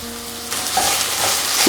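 Sliced onions frying in a pan for a spicy quail egg roast burst into a loud, bright sizzle partway through as ginger-garlic paste goes in, then keep hissing with light stirring, close up.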